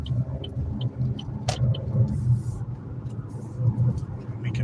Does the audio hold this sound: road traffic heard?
yes